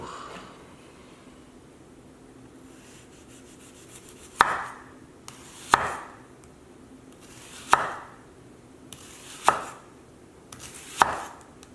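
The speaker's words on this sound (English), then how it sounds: "Next, I'm going to peel and thinly slice the shallot." Knife thinly slicing a peeled shallot on a board, five distinct crisp chops spaced a second or two apart, close and clear with no speech.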